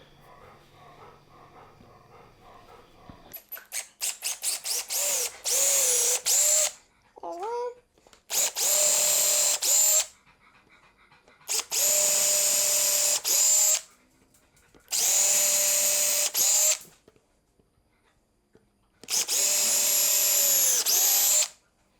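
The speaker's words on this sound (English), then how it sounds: "We're gonna go ahead and do our pre-drilling." A power drill pre-drilling holes in wood for a bench whines in repeated bursts of a few seconds each, separated by short pauses, close and loud, with brief quieter sounds between bursts.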